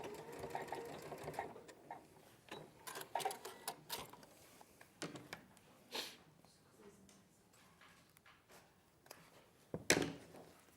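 Sewing machine stitching across the ends of a zip, faint and quick, mixed with handling clicks and taps, with someone talking softly at points.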